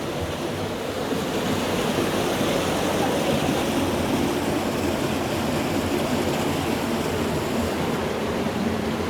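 Spring water rushes steadily nearby, a loud, continuous broadband flow with no pauses or voices.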